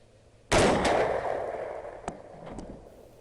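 A single loud rifle shot fired at a mountain lion outdoors at night, with a sharp crack and a long rolling echo that fades over the next couple of seconds, then faint clicks.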